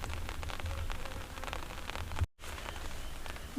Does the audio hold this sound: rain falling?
yes